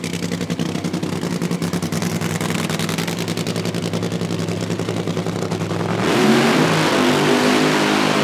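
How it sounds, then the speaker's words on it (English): A drag racing car at an IHRA Outlaw Nitro Series Pro Mod and Top Fuel qualifying event roars with a steady high-pitched engine whine, then surges louder as it accelerates. "Good car by Joey. It always runs well when he comes out"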